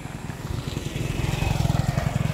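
A motorcycle engine putters past with a steady, rhythmic low chug that swells louder toward the end, as if drawing nearer.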